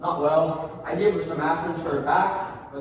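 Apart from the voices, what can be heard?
No everyday noise stands out behind the speech.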